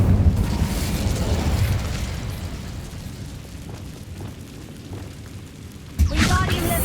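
A fiery Incendio spell blast from Hogwarts Legacy whooshes and booms, with a rumbling burst that fades into softer crackling and then a second sharp surge near the end, while a voice speaks over parts of it.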